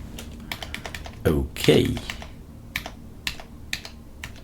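Typing on a computer keyboard in a Linux terminal, a sparse run of clicky keystrokes with a couple of louder clustered taps, close and clear; someone speaks briefly during it.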